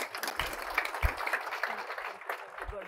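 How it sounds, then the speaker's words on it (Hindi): An audience claps together at a spiritual teaching event, a moderate burst of applause with a few louder individual claps, heard at middle distance. "एक बार ताली बजाओ।"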